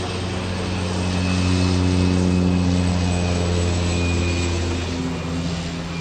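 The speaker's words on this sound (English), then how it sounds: "Non-stop plane and noises around here too" Steady droning engine of a propeller plane, a continuous low hum with harmonic tones that swells slightly and fades, no voices.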